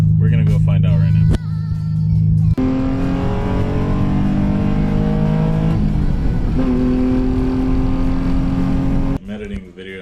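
A Nissan 350Z fitted with billet suspension arms drives with a loud, rising and falling engine note through several gear changes, close and prominent, with no voices over it.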